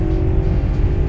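A loud BMW M60 V8 engine drones and pulls steadily under acceleration, a close, throaty hum with a sustained tone.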